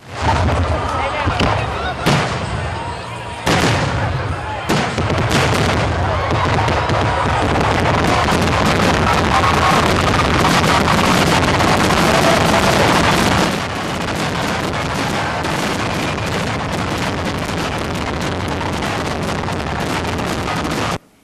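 A local Fourth of July fireworks show bursts with loud, sharp booms, closely spaced at first and then merging into continuous crackling and rumbling, with wind buffeting the microphone.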